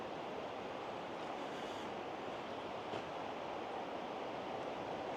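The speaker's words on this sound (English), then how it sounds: "I can hear a river down there somewhere" A river rushes somewhere below a steep drop on an Oregon forest hike near Little Zig Zag Falls, a steady broadband roar muffled through the trees, constant and distant with no voices.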